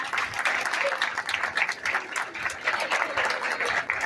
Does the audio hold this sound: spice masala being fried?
no